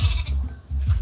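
Goats and sheep bleating at Sally Goat Farm: two short, close bleats with a pause between them and low farmyard noise around them.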